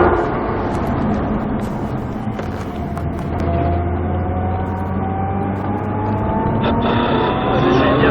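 A race car on the Croix-en-Ternois circuit accelerates after a downshift, its engine note climbing steadily in pitch as it pulls hard, loud and close from inside the car, with a brief change near the end.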